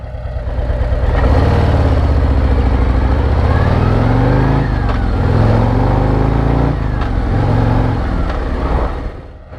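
A 2024 Harley Road Glide engine idles with a loud, steady, deep rumble close by, then rises in a few throttle blips before settling back.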